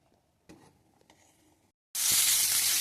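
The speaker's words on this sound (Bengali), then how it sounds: "সম্বার দিলাম পেঁয়াজ, শুকনো লঙ্কা," Sliced onion and dried red chilli dropped into hot oil for a Bengali dal tempering, a sudden loud sizzle that bursts in and holds steady after a couple of soft clinks and a near-silent pause.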